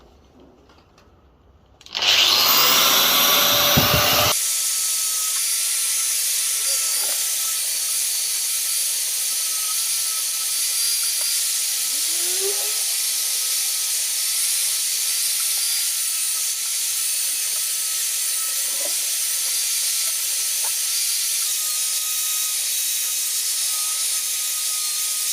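An angle grinder with a small abrasive disc cleans welded metal on a homemade manual log splitter, starting with a rising whine and then holding a loud, steady hiss for over twenty seconds.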